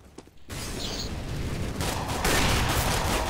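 CS:GO competitive match gunfire begins after a brief quiet moment and turns into a loud, steady wash of shooting and explosive noise that swells toward the end.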